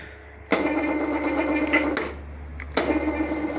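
An electric chain hoist (telpher) with hook, pendant control and travel carriage runs with a steady motor whine and hum, starting abruptly and stopping and restarting with sharp switching clicks, loud and close with no talk.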